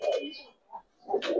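Giribaz pigeons give short, throaty coos close by, with two bursts separated by a brief pause.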